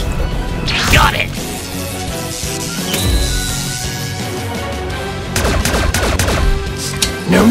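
Animated gunfire rings out in a Skibidi Toilet battle: loud broadband bursts and rapid volleys come in clusters amid crashing effects, and voices shout throughout.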